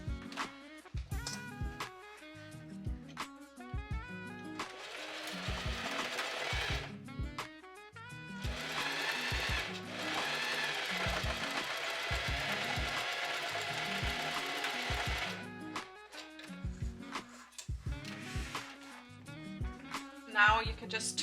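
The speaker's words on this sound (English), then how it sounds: "So I'm gonna sew across here now." A sewing machine stitches across a make-up bag in short bursts, rapid clattering runs separated by brief pauses, with two longer sustained stretches of steady whirring in the middle.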